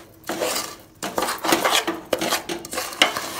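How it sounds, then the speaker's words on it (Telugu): A spoon stirs semolina and coconut into hot sugar syrup in a metal pot for rava laddu, a series of rhythmic scraping and clanking strokes, close and fairly loud, with short pauses between bursts. "ఈ పాకంలోనే రవ్వ అవన్నీ వేసి బాగా మిక్స్ చేసుకోవాలి."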